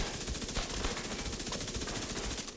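Rapid automatic gunfire rings out in The Division 2 video game as a weapon shoots at a target, a steady, fast stream of loud, close shots with no break.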